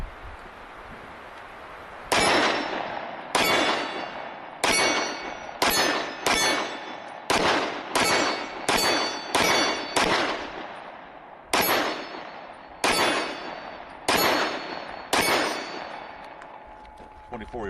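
Walther PDP pistol fired at steel targets roughly 15 and 24 yards away: about fifteen sharp shots at uneven intervals, each followed by a ringing metallic clang, loud and close with no talking.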